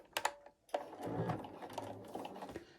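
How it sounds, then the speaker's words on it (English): A sewing machine back stitches jersey fabric for a scarf, with a couple of sharp clicks followed by a short burst of close, rapid mechanical stitching. "it actually does a back stitch for me on my machine"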